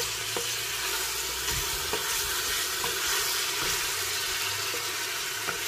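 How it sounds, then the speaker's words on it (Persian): Meat frying with onions in a pan sizzles in a dense, even hiss, with soft periodic clicks of stirring scattered through it and no voices. "ما گوشت امرای پیاز سرخ میکنیم تا ای که خوب خامبویی گوشت امرای پیاز بره"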